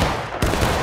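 Musket gunfire in the Civil War video game War of Rights during a historical rules event: a single loud, close report lands midway, set against a constant dense backdrop of battle noise.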